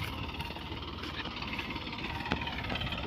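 A farm tractor used to spread fertilizer in mustard and wheat fields idles with a low, steady, knocking rumble that sounds faint and somewhat distant, with no other sound standing out.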